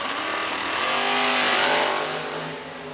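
An 87 Chevy Cavalier at a drag race sends out a loud, roaring engine blast that swells and then fades over a few seconds, with no voices over it.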